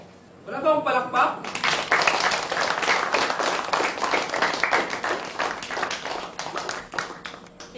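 After a brief spoken line, an audience breaks into a burst of loud, dense clapping that carries on steadily to the end, in a comedic superhero film scene.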